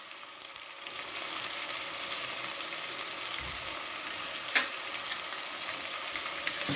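Onions with a ginger, garlic and green chilli paste fry in a pan for a cauliflower sabzi, making a continuous close sizzle with occasional light clicks from stirring.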